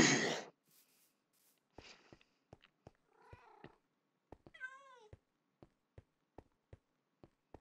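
A cat meows several times, close and fairly quiet, with a longer drawn-out meow in the middle among soft purring breaths and a steady series of light ticking clicks.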